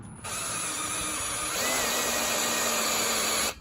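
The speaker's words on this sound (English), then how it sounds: "don't wear gloves when you're using drills" A handheld power drill bores through metal for a John Deere X570 lift frame build outdoors, a steady close whine that starts abruptly, rises in pitch partway through and cuts off, with no talking.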